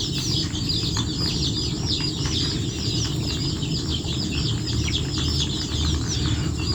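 Backyard village chickens, kept for meat and eggs, fill the air with a dense, steady chatter of high calls and clucks, continuous and fairly loud with no pauses.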